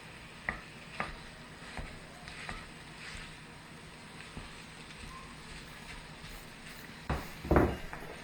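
Italian sausage and onions browning in a pan give off a low, steady sizzle. Scattered scrapes and taps of stirring recur throughout, with a louder clatter near the end.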